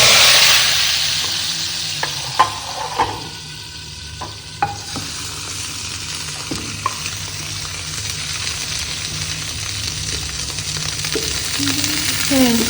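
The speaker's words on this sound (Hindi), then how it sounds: "अब हमारा लहसुन हो रहा है ब्राउन" Garlic sizzling and browning in hot oil for a tadka, a steady crackling fry with spoon stirring and occasional utensil clinks throughout, close and moderately loud.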